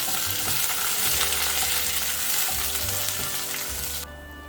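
Chopped onion, green chili and curry leaves sizzle in hot oil with fried mustard seeds in a pan for pumpkin thoran. The steady, bright frying hiss carries low stirring scrapes and drops in level near the end.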